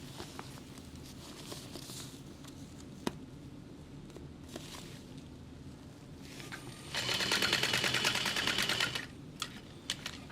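Sewing machine basting backpack fabric, a quiet room with scattered handling taps, then a steady close run of rapid stitching lasting about two seconds before stopping.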